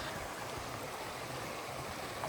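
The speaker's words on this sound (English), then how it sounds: "the trail goes right along this little creek right here, which is super cool" A small creek flows beside a hiking trail in the Appalachian mountains, a faint, steady rushing of water with no pauses.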